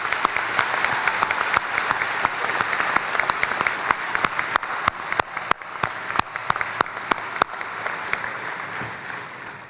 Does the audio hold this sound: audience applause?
yes